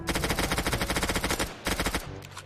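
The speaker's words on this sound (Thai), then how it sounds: "โอเคยิงตำรวจไปสองนาย" Rapid bursts of automatic gunfire from the Roblox game City Life, as police are shot at, rattling loud and continuous for about a second and a half, then a short pause and another volley.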